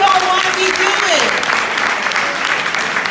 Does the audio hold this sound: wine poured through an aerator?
no